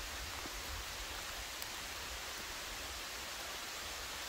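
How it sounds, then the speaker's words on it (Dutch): Steady rain hisses down during a walk through the Kampina nature area, a dense, even wash with occasional nearby drips and no talking. "Zie je maar eens regenen."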